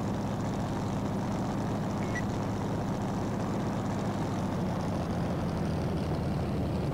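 A-1 Skyraider propeller plane in Gunship III takes off, a steady, loud low-pitched engine drone with propeller buzz that holds evenly throughout.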